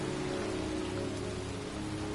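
Pouring rain in a cemetery in the video game Heavy Rain, a steady, dense hiss of rainfall pattering on surfaces with a faint low hum beneath and no voices.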